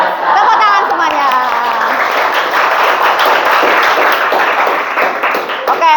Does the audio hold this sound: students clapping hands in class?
yes